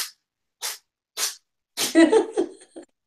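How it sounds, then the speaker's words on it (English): Several short, sharp sneezes burst out one after another, fairly close, followed by a brief breathy, voice-like sound. "some sneezes going on."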